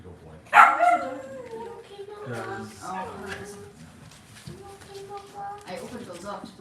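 Cavalier puppies in their pens whimper, yip and bark in short bursts close by, while someone talks softly to them over the top.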